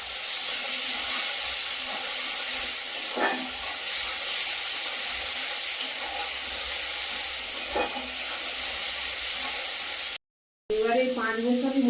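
Onion paste and slit green chillies frying in hot oil for a Bengali oil koi fish curry, giving a steady close sizzle with occasional stirring clinks and brief voices near the end.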